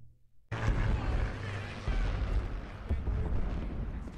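Artillery bombardment in a Pacific war drama set at the Peleliu airfield: after a brief quiet start, a loud, sustained rumble of heavy shelling and booming explosions rolls on, with overlapping blasts.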